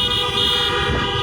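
Car horns honk together at an outdoor political rally in Helena, Montana, a loud, close overlapping blare of several horns sustained through the moment.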